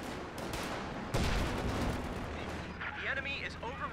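Stuka dive bombers strafing in a WWII strategy video game, a dense rattle of rapid gunfire with a heavy thump midway and shrill whistling effects near the end, mixed with a talking voice.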